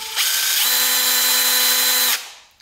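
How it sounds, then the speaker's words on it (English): An engine valve from a race quad spins in an electric drill, giving a steady high motor whine with a rising tone near the start, then winding down after about two seconds. "If you're thinking it's bent, just shove it in the drill here."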